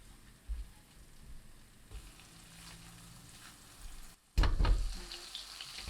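Minced garlic and chopped green onions sizzle softly in melted butter in a pan, a faint steady frying hiss that grows louder near the end as the mixture is stirred.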